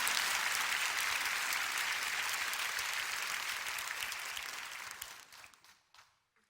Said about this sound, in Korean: 이때 박수를 쳐야 돼, 사실은.